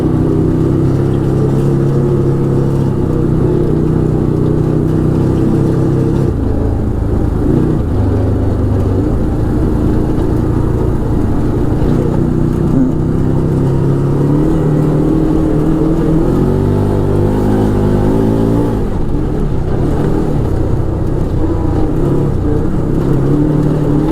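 An Arctic Cat Wildcat 1000X side-by-side accelerates hard, its engine roaring loud and continuous up close as the pitch climbs and steps through several shifts, with no talking.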